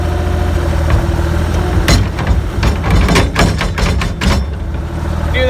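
A tractor loader bucket is shaken to loosen packed manure before spreading, giving a series of sharp rattling knocks over a steady idling tractor engine, close and loud.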